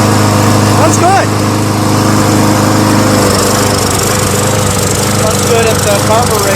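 A lawnmower engine runs loud and close, a steady buzzing drone that shifts slightly in pitch partway through, with voices briefly audible over it.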